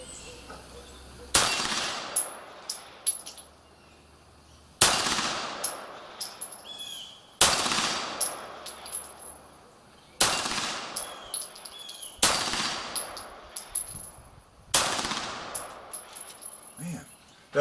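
Six sharp, loud pistol shots from a Beretta 92G Elite Compact ring out at the range, spaced a few seconds apart, each with a short metallic ring and echo trailing off.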